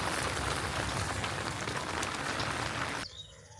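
Steady rain pattering hard on a surface on a rainy morning, a dense continuous hiss that cuts off abruptly near the end, leaving quiet with faint birds.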